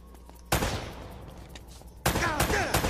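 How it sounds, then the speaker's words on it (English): Enemy gunfire in Uncharted: Drake's Fortune: two sharp, loud bursts of shots hit about a second and a half apart, each trailing off into a rattling echo over low game ambience, with a voice briefly audible. "Okay, they're shooting at me now."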